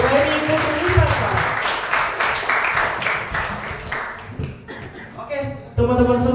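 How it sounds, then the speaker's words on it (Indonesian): An audience at a talk on communicating with people with disabilities breaks into steady dense applause that fades toward the end, with voices and a loud speaking voice over it. "Tepuk tangan dong untuk Ibu Reni Putrisasa."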